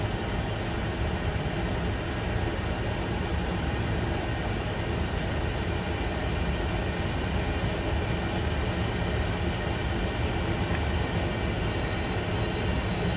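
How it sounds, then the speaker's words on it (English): A steady, loud Boeing 747 jet engine roar fills the whole stretch, constant and close, with no letup or talking. "the sound of a Boeing 747 going through this street"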